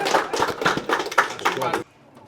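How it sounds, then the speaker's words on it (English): Hands clap in steady, quick rhythm for a man just interviewed, close and fairly loud with voices talking over the applause before it stops abruptly into quiet. "Clap the man."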